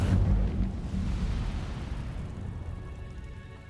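A fire spell bursts in Hogwarts Legacy with a loud booming whoosh at the start that rolls on as a steady roaring rumble, slowly fading over a few seconds, with no talk.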